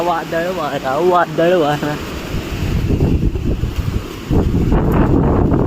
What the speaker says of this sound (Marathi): वादळ वारा